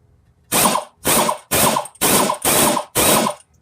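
An air ratchet driving a BMW E36 rear trailing arm bushing tool, six loud, evenly spaced bursts of rapid mechanical clicking, each lasting about a third of a second, close by with no voices.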